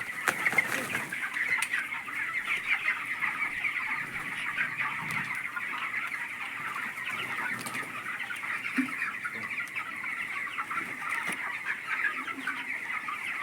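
Broiler chickens on a poultry farm cluck and chatter as a dense, continuous flock murmur, with occasional louder individual calls and a brief wing flap, heard close and without talk.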